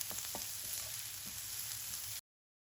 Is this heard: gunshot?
no